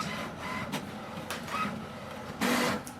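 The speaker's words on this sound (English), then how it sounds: "Wait for the printer to print the page." An HP Smart Tank 5106 inkjet printer prints an alignment page, whirring and clunking as the carriage shuttles back and forth in rhythmic passes, close and alone.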